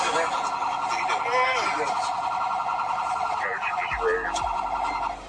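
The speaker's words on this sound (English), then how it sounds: "Oh, fire truck. An ambulance. An ambulance." An emergency vehicle siren, a fire truck or ambulance, wails loudly and continuously with rising and falling tones, mixed with other electronic sounds and a voice speaking over it.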